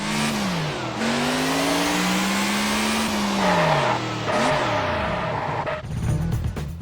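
A Ferrari Enzo driving in the racing game Test Drive Unlimited, with a loud, close, continuous engine howl whose pitch climbs and drops through gear changes and revving, ending in a rougher burst.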